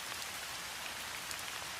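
Steady rain pattering on surfaces, a dense, even hiss of drops that stays constant and fills the background with no voices.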